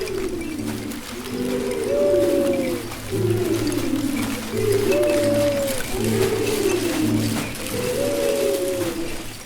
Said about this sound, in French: J'entends ululer là-bas, entendrais-tu aussi ?